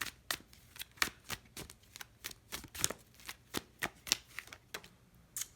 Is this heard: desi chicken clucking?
no